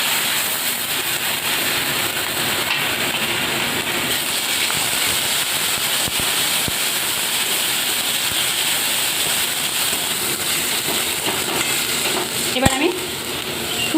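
Ginger and cumin paste frying in a pan, a dense, constant close sizzle with occasional faint stirring scrapes and a single sharp knock near the end.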